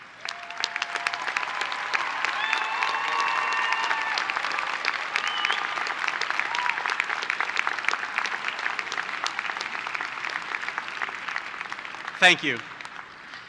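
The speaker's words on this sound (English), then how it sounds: "I think you deserve a very robust round of applause." At a 2023 high school graduation ceremony, the audience gives the standing faculty a long, full round of applause that rises quickly and holds steady before a brief spoken thank-you near the end.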